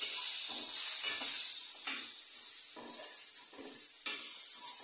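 Garam masala, asafoetida and spices roast in hot oil for a garlic fenugreek dish, making a steady hiss with soft, repeated stirring scrapes and one brief click.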